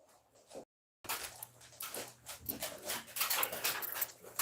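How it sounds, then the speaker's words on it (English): A dog indoors gives short, faint whimpering barks and yelps in a quick irregular series after a brief silence, with no talk over it. "You know it's important when Leia's fucking barking"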